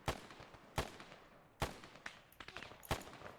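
Scattered gunshots ring out in a military shooter video game, about half a dozen sharp cracks at uneven intervals, some near and some more distant, with no talk over them.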